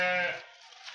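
A lamb gives one loud, close bleat that opens with a strong voiced cry and then trails off into fainter breathy noise, with no talk over it.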